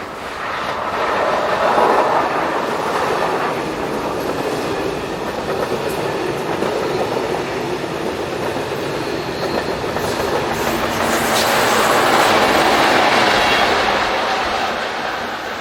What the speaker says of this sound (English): Class 27 generally work through here on line ICI trains formed of push-pull